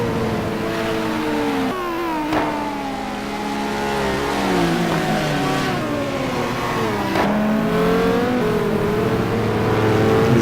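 Race car engines in a sim racing game at Spa, a dense pack of howling motors revving and shifting through gears continuously and loudly, with several overlapping cars rising and falling in pitch.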